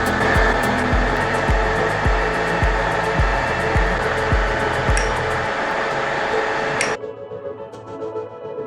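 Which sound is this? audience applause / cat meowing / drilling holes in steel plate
drilling holes in steel plate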